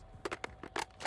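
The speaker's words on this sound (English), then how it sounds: "Switching mags." Close, crisp metallic clicks and clacks in a quick burst as a magazine is swapped during a reload in Call of Duty: Warzone, with no voices.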